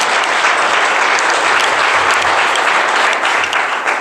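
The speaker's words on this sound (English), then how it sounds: "Please give me a big round of applause." Loud, steady applause from a crowd at a business presentation, many hands clapping continuously throughout with no pauses.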